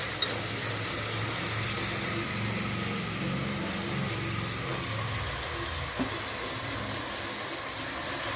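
Boneless, washed and salted chicken frying in a pan for chicken haleem, a steady, even sizzle that holds at one level throughout with one small clink near the end.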